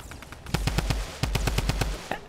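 Automatic gunfire in Fortnite comes in two rapid bursts of evenly spaced shots, loud and close, with a short pause between them and no voices over it.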